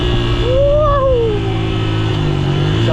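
On a Koreatown street, an electric vehicle speeds past nearby, its rising then falling whine sweeping over a steady traffic rumble.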